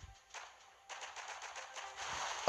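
Machine gun fire in the mobile strategy game Boom Beach, a dense rattling burst that starts, pauses briefly, then resumes steadily and builds louder toward the end, with no voices.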